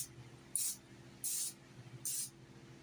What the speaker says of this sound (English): you need to spray your pan and then pour it up